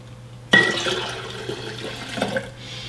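Cold water is poured from above into a glass vase of lime juice for Vietnamese limeade, starting abruptly with a splashing rush that continues as a steady, close filling sound for about two seconds.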